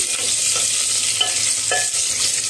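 Dried red chillies and curry leaves sizzle steadily in hot oil for a Telugu chenagala kattu, a dense continuous crackle with a few brief stirring scrapes, close and fairly loud, no voices.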